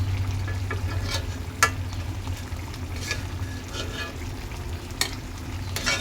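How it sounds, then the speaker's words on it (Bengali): Four large pieces of fish sauté in spiced oil in a pan for a cauliflower fish curry, giving a steady close sizzle broken by occasional sharp scrapes and clacks of stirring, with no voices. "বড় বড় 4টা পিস মাছটা কষানো হয়েছে।"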